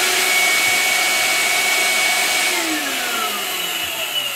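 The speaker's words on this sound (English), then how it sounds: "First of all, I'm going to run the RSD machine." An RSD high-filtration dust extraction machine runs alone with a steady, loud broadband whoosh and faint whine, its pitch sagging slightly toward the end.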